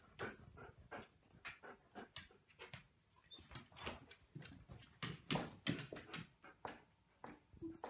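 An excited puppy pants rapidly and whimpers close by, quick breathy bursts repeating in an uneven rhythm, with soft shuffling between them.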